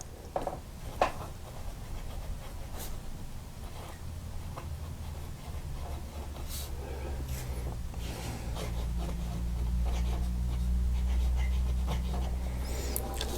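A tan Cross Torero fountain pen glides across paper uncapped and unposted, giving soft, close scratchy strokes with faint taps, over a low steady hum.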